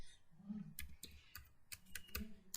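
Quick, irregular keyboard key clicks tapping out a short burst of typing, close up, with no voices.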